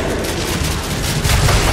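Rapid bursts of gunfire from a VR zombie-shooting game fill the moment, loud and dense, a continuous rattling volley with a heavier thump near the end.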